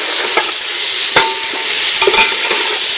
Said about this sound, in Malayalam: നമുക്ക് നമ്മൾ വറുത്ത് ചെയ്ത് മുട്ടയും കൂടെ ഇട്ട് കൊടുക്കാം.